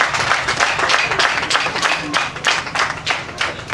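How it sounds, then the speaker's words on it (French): Audience at an administration council ceremony in Ouesse applauds steadily, a dense, continuous patter of many hands clapping at close range with no voices rising above it. "Veuillez l'applaudir très fort, s'il vous plaît."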